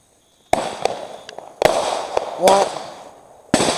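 Fireworks burst near a house in a string of sharp, loud bangs spaced unevenly, each with a crackling tail, with a short exclamation from a voice among them.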